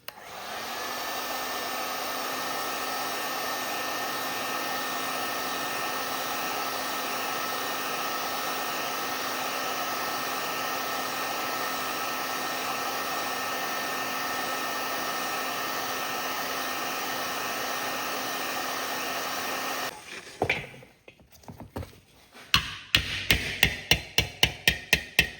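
A dryer-style heater blows a steady, close whooshing hum onto a dent in a Cub Cadet hubcap for about twenty seconds, then shuts off. Quick clicks and a rapid run of sharp taps follow.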